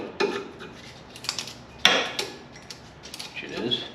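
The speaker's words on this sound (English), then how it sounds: "That just sounds like paint cracking." Paint cracking off a bent plastic guard on a Prowler as it is straightened, scattered crisp crackles and sharp snaps, one louder crack midway, close up among quiet handling noises.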